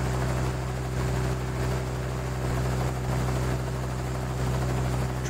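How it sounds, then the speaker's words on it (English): A zeppelin flies in the Dinosaur Train video game, heard as a steady, droning engine and propeller hum that continues without a break. "Press the space bar to make the Zeppelin go up."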